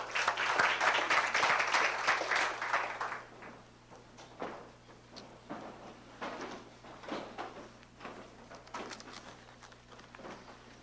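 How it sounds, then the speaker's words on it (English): A health and healing talk audience gives a brief burst of applause that fades after about three seconds, leaving scattered claps, shuffling and quiet room noise. "Give yourself a nice round of applause."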